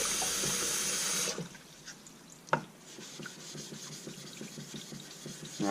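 Water rushes loudly over a honing stone for about a second to rinse off 1000-grit slurry, then cuts off. Quieter scraping and rubbing follows.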